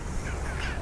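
Crows caw outdoors in the morning, a rough call rising over a steady background hum, moderately loud and heard alone without talk.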